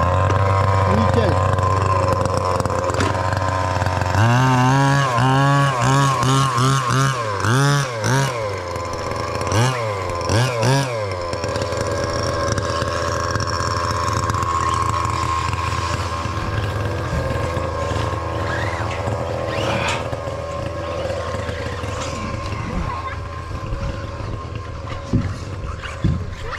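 A small nitro engine on a 1/6-scale FG Marder Cox Baja RC car buzzes loud and close, with a few sputtering revs before it settles into a steady high-pitched running drone.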